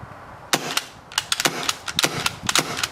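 Sharp snapping shots from an airsoft gun crack out in quick, uneven succession, close by and clipped, some with a suppressor and some without, with a muted report.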